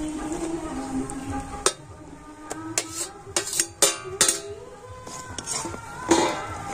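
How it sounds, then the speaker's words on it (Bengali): A spoon scrapes and clinks around a pan as chhena is stirred into boiled, thickened milk, with irregular metallic taps and scrapes over a low steady hum and no talking. "আর এবারে কিন্তু কন্টিনিউ নাড়াচাড়া করে আর খুব ভালো করে এটা মিশিয়ে নিতে হবে।"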